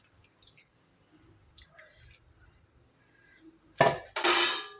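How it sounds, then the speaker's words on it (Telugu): Tamarind juice pours into chicken sambar in a kitchen: a short liquid splash and gush near the end, after a stretch of faint clinks and drips. "ఇప్పుడు ఇందులో చింతపండు రసం వేసుకుందాం"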